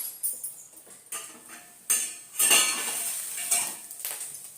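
A metal utensil clinks and scrapes against a paniyaram pan while barley, aval and rava paniyaram are turned, with several sharp, close knocks and a continuous light sizzle.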